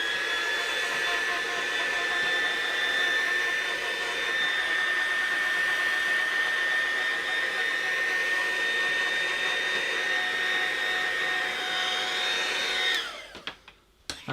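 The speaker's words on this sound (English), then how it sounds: "Let's just give it a very swift dry, very quick dry, with the dryer." A hair dryer blows steadily and loudly on a watercolour painting of penguins, a constant whirring hum with a high whine that runs unbroken for about thirteen seconds before it is switched off.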